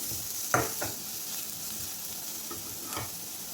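A large onion is stirred as it fries in a pan, a constant close sizzle broken by a few distinct scraping strokes of the spoon, with no voices.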